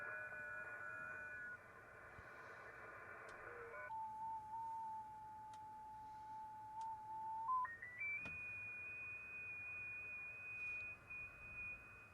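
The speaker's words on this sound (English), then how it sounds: "that sounds like it might be data coming through" A data signal picked up on a software defined radio: faint, steady electronic tones that hold a pitch and then jump to new pitches in stepped shifts, with soft clicks and a low hiss underneath.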